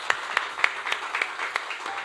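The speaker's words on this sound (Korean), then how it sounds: "우리 감사의 박수 하겠습니다" At a church sending-out service, a congregation's clapping of thanks comes through as a brief run of evenly spaced, fairly sharp claps. The claps fall in a steady rhythm and are heard at moderate distance.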